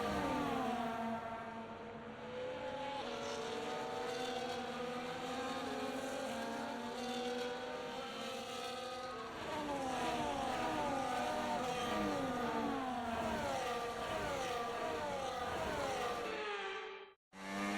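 Formula 1 race cars in the F1 24 video game roll through a dry-weather formation lap, their engine notes steady and continuous, with overlapping pitches rising and shifting throughout before cutting off abruptly near the end.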